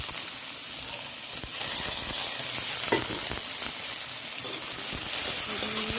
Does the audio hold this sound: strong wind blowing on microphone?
no